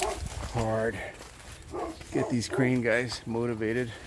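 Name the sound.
neighbor's dog barking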